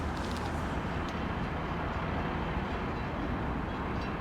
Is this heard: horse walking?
no